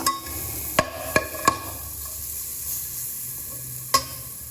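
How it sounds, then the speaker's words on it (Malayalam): Chopped onion and garlic sizzle steadily in hot oil with popped mustard seeds in a pan, while a spoon scrapes and knocks against the pan in a few sharp, close clicks. "വെളുത്തുള്ളി ഇട്ടിട്ടും നല്ലോണം ഇളക്കുക"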